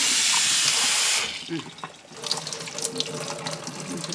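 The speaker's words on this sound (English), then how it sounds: "Put some water like this." Water pours steadily from a tap into a cooking pot for about a second, then stops, followed by clinking and handling noises in a kitchen with some talk nearby.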